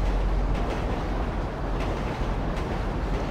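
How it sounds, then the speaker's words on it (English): A video game train rumbles past in a continuous, dense roar of low mechanical noise that holds steady throughout. "Oh wait, the train's here."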